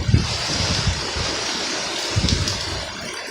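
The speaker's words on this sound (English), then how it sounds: "as much as all this movement you see in these trees and this wind, this is nothing to what it was about 3 hours ago" Hurricane Irma's wind rushes steadily through palm trees, a loud, close broadband roar with low gusty rumbles buffeting the microphone, easing somewhat after the storm's peak.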